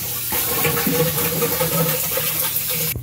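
Water sprays hard onto thick ice inside a new cooler, a steady, loud, close rush of hissing water lasting a few seconds.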